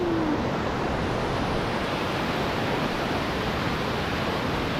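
The Madi River rushing past, a dense, steady roar of flowing water that fills the whole clip loud and unbroken, with no voices.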